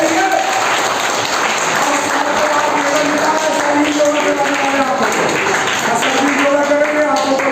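Loud, steady applause from an audience at a school health and Ayurveda event, dense and continuous throughout with some crowd noise and voices mixed underneath.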